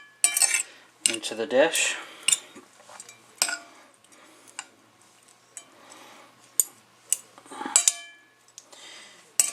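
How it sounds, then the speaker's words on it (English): Bean sprouts are tossed into ramen noodles in a dish. A metal utensil clinks and scrapes against the bowl in irregular bursts, close and fairly loud, with a brief spoken phrase. "I gotta carefully mix this stuff up with the sprouts"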